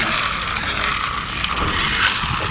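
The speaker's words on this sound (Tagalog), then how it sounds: "It's a manual fan." Small manual hand fan being worked in a store, giving a steady close whirring, clicking mechanical rattle that runs continuously without pause.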